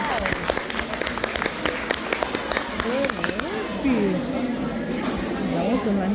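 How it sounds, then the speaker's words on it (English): Scattered classroom applause for a math group at an award event, with a run of sharp individual claps early on, then fading under overlapping children's and adult voices. "Let's give a round of applause, please."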